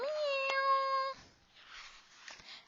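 A human voice mimics a cat's meow in one drawn-out, tonal call, followed by quieter breathy sounds, during a children's story reading.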